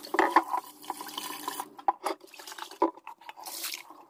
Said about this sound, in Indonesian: saya cuci ini dulu ya, dan nanti saya tiriskan untuk pengeringannya